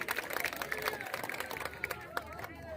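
A crowd claps to welcome a speaker at an Independence Day speech event, heard as a fairly faint, scattered patter of hands mixed with murmuring voices.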